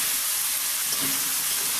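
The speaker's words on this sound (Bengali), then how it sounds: "এখন আমি টমেটোগুলো দিয়ে ভেজে নেব" Tomatoes frying in a little oil with spices for a chicken and potato curry, a brief continuous close sizzle and hiss with no talking.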